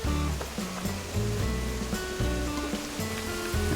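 A watering can pours a steady, loud splashing stream over flowers in a video game, with continuous water noise and a looping musical tone underneath.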